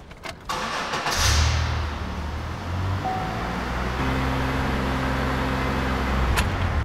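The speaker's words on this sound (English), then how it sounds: "This time we're gonna start and run at 2500 RPM for 20 seconds." A Chevy Impala engine cranks and starts after water pump replacement, then settles into a steady run held at elevated RPM, a loud close continuous hum with no talking.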